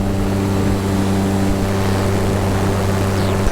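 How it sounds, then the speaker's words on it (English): An electric paramotor's propeller motor at full throttle gives a steady, loud, droning whine with a constant tonal hum, sustained without a break and close by. "So I'm spiraling down at quote-unquote full throttle."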